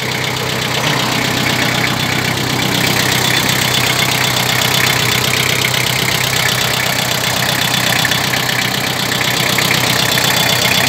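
Four-cylinder engine of a tractor fitted with a front loader, idling steadily with a dense, even knocking rumble, close and loud, running alone without voices.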